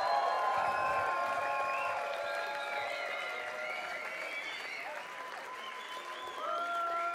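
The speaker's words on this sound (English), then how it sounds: "Give him a big round of applause." Crowd applause for a guest vocalist at a concert, clapping and cheering running under sustained tonal music or ringing sound throughout.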